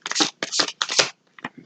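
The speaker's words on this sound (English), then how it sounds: "No, one more shuffle." Three fast, crisp riffles of shuffled tarot cards in quick succession, then a couple of softer taps, close and clear with no talking.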